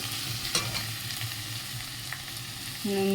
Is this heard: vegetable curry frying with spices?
yes